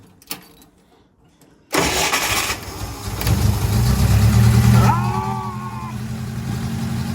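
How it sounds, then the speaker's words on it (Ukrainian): A long-idle UAZ 2206 van engine cranks and catches abruptly, then settles into a rough, loud, rumbling idle that swells and eases, close by. "А ну, спробуємо ще раз завестися."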